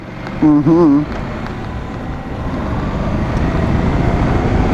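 A 2016 Honda NM4 motorcycle accelerates hard on a test ride, its engine drone swelling steadily louder under wind rush, with a brief spoken voice at the start.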